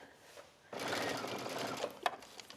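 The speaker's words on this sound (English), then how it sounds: "you can go a little slower if you have a speed button on your sewing machine" A domestic sewing machine stitches fabric during a skirt seam and pocket sew-along, a steady close whirring run starting abruptly and continuing for about two seconds, with a couple of small clicks near the end.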